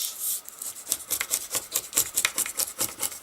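A knife blade chiselling out corrugated cardboard along a groove gives a quick series of soft dry scraping rubs and crunches, close and fairly quiet, with no talking.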